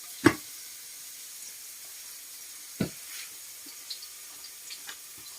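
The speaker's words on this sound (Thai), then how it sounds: "นี่คือผัดคือเต้าหู้พี่ทอดนะคะ พี่ทอดเต้าหู้ค่ะ" Tofu fries in a pan in a home kitchen with a faint, steady sizzle, broken by two sharp clinks and a few soft utensil taps, with no talking.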